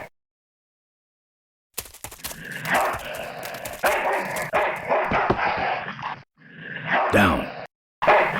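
Dog in the Full Throttle adventure game barking and yipping at close range, a burst of loud barks and whimpers after silence, with brief pauses and a voice line near the end.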